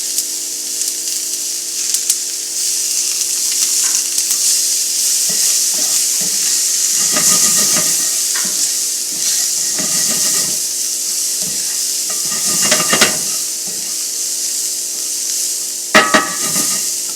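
Cilantro stems sizzle and fry in hot oil in a pot for a curry potato dish, a loud steady hiss broken by several bursts of stirring scrapes.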